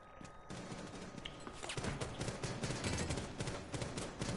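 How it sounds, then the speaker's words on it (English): Suppressed gunfire in the Rainbow Six Siege video game comes as rapid, muffled bursts of shots over steady game ambience. "I can hear her taking silent shots at him."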